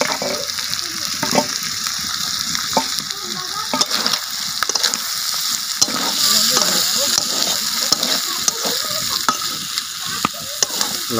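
Cut potatoes fry and sizzle in a pan over a village cooking fire, a steady loud crackling hiss with intermittent stirring scrapes and clatters, no talk over it.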